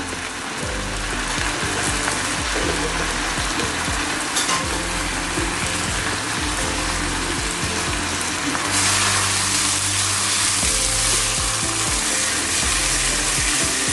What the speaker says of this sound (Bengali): এবারে চালটা খুব সুন্দর করে আমি কষিয়ে নিব আমি মানে ভেজে নিব